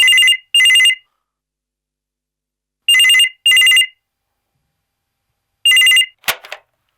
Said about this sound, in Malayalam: ആ ഫോൺ എടുക്ക്